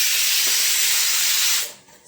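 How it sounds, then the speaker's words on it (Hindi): Whistle of a pressure cooker boiling chickpeas (chole) in a home kitchen: a loud, steady hissing release of steam lasting over a second, then cutting off abruptly. "सीटी आ चुकी है छोले में,"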